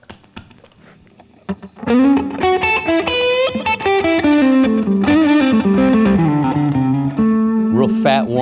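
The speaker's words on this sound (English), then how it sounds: "Also, position 4 in distortion mode." After a quiet moment, a loud, heavily distorted Taylor T5 electric guitar on its position 4 distortion setting comes in with thick, sustained chords and a short melodic run.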